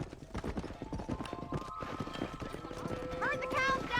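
Horse hooves clip-clop at a steady gait in Red Dead Redemption on Xbox 360, the rhythm running under voices and cattle-herding game sounds, with a brief whinny-like call near the end.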